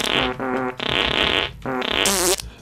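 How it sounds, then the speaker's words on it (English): Cartoonish fart noises from a toilet in the Minecraft video game, three long, loud, buzzing blasts in a row with brief gaps, the last ending in a higher squeak, with no talking. "You get the fart noises on the toilet."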